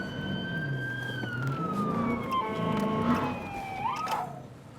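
A police car siren wails and sweeps in pitch, loud and steady over a car's engine, as the car drives code 3 on the road.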